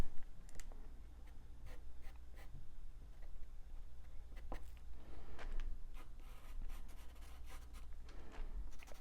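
A pastel pencil scratches and scribbles on paper in quick, uneven strokes, close and fairly quiet, with light tapping and clicking between the strokes.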